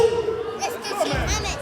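Crowd noise at a high school basketball game, Sentinels against Alpha, with chatter, scattered shouts and a thud swelling at the end, heard under and around a commentator's voice.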